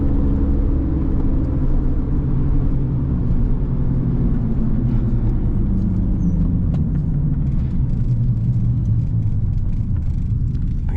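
A Honda K-series engine revving through VTEC while driving on a smooth paved road, heard as a loud, continuous engine roar and rumble whose pitch climbs gradually across the run.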